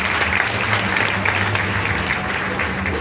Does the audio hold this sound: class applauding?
yes